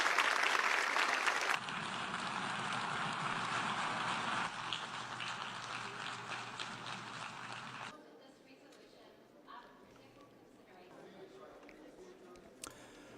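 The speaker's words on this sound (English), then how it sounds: "There was applause as the UN voted for Israel to end its occupation" Applause fills a United Nations assembly hall after a vote, a steady broadband patter heard at a distance for several seconds before it thins out and fades, with a voice speaking at the start.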